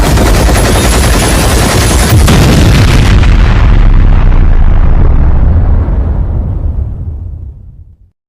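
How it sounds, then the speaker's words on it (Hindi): A cartoon explosion blows up a house, a loud sustained blast rumbling with a crackling burst for several seconds before fading out, with no voices over it. "उड़ा दो इसे।"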